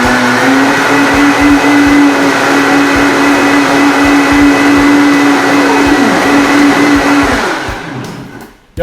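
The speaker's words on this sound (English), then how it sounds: "So I just blend her on up." A high-power blender whirs steadily while blending bulletproof coffee, a loud continuous motor drone with a sustained pitch that holds for about seven seconds, then winds down and cuts off near the end.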